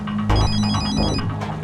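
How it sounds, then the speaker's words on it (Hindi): A mobile phone rings with a loud, repeating electronic tone, playing alone with no voices over it. "अभी तो घंटी बजी थी"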